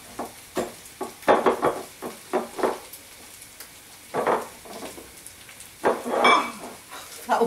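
Spinach stirred and sizzling in a hot pan while steak and chips are prepared, with bursts of frying crackle rising and falling in uneven surges as the leaves are moved around, close and fairly loud.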